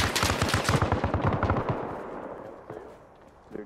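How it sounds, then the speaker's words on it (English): Rapid gunfire bursts from underslung grenade launchers and rifles in the military shooter Arma Reforger, a dense volley of sharp reports that thins into scattered distant pops. "I can hear underslungs popping off."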